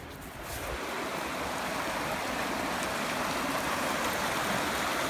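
A river flows with a steady, close, broadband rushing that fills the whole stretch without a break.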